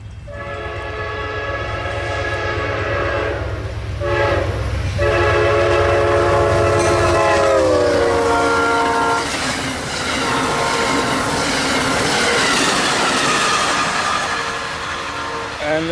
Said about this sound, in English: we got the Amtrak 89 Southbound Palmetto coming by Micro on the main track